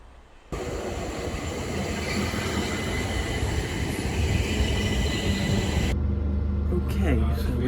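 A train pulling out of Ravensbourne station, its rumble starting abruptly and holding loud and steady, with rail clatter and a shift in tone near the end.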